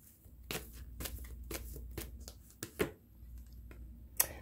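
Tarot cards shuffled and drawn by hand, a series of crisp riffling flicks and slaps in a steady, close rhythm with a sharper snap near the end, quiet and alone.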